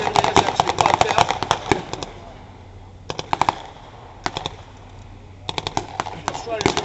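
Rapid machine-gun bursts and gunfire crack loudly in repeated volleys at a battle reenactment arena display of the War and Peace Show, with pauses between bursts and a voice talking underneath.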